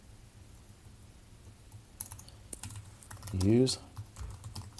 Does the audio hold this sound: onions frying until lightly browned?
no